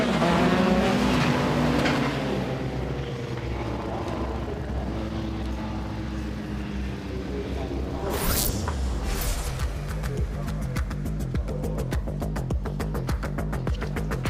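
Rallycross cars roar off the line together at a race start in Kouvola, Finland, a loud dense engine wall with rising revs, a brief tyre squeal, then rapid staccato gear-change pulses as the pack pulls away.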